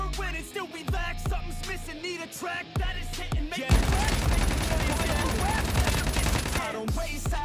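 Call of Duty gunfire: scattered single shots, then a long sustained burst of rapid automatic fire, with a voice speaking between shots.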